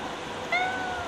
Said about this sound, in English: He usually doesn't meow.